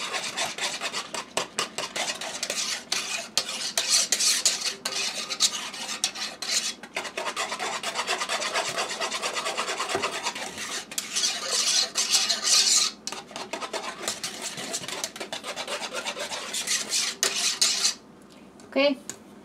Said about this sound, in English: Now, while the milk is still cold, I'm going to go ahead and use whisk.